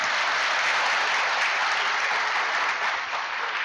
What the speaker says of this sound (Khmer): សូមមេត្តាទះដៃឲ្យខ្លួនឯងមួយបាទ